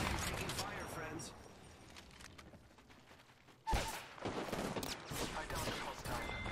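Gunfire from Apex Legends game play crackles in bursts, a quieter stretch followed by a sharp loud shot and then rapid repeated firing, with a player talking over the action.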